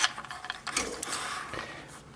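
A sewing machine stitches a seam on a military patrol cap, giving a steady mechanical whirring with ratchet-like clicks that runs continuously at close range with no voice.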